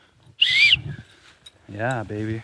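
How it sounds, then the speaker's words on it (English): An old rusty whistle found at a campsite gives one short, shrill, slightly wavering blast up close, followed by a voice speaking briefly. "And a whistle."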